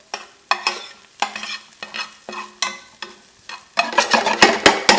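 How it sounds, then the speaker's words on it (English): Coarsely chopped garlic being stirred into a pan of frying sausage, with repeated scraping strokes of a spoon over a soft sizzle, the stirring speeding up into a busier rhythm near the end. "We're going to add to that 5 cloves of garlic that have been coarsely chopped"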